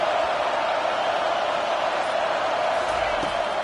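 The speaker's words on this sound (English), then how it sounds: "Listen to this crowd just shaking the girders of this place" Stadium crowd roaring in an NCAA 25 college football video game, a dense, steady wall of cheering noise that holds loud and constant throughout, with no single voice standing out.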